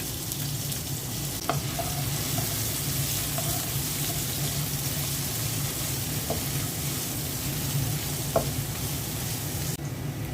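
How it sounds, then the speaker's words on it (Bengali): Onion frying lightly in a pan for a bottle gourd curry, a steady hissing sizzle with occasional soft stirring clicks, close and continuous. "পেঁয়াজটা হালকা ভেজে নিলাম"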